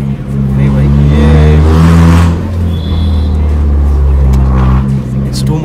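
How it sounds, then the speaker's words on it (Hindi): A modified old Hyundai with a loud aftermarket exhaust revs hard and holds a deep, booming drone, rising briefly in the middle, close and loud throughout. "it's like super loud 2500 RPM okay आप क्या एग्जॉस्ट का नोट है ये"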